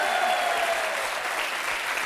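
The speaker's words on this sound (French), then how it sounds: "On peut applaudir Barbara quand même" A television game show studio audience applauds a contestant, a dense, even wash of clapping with no break.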